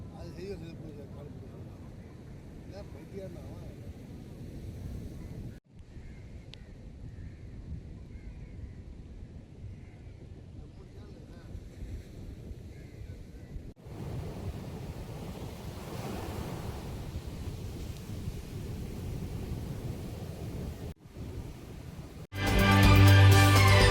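Rough surf with waves over 10 feet high crashes and roars steadily on a beach, broadband wash building louder toward the end, with wind buffeting and a voice talking over it.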